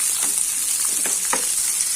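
Long-sliced onions and cashews fry in hot oil for a vegetable biryani with a loud, close, continuous hissing sizzle, broken by a few soft stirring scrapes.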